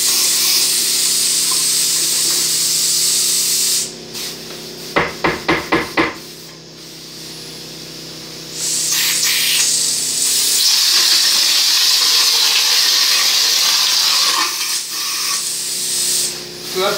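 Texture spray hisses loudly onto a drywall patch in two long, close bursts separated by a pause, during which a quick cluster of about four sharp taps rings out.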